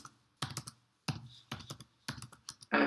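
Computer keyboard being typed on while Python Flask code is written, with quick clustered bursts of near, crisp key clicks separated by short pauses.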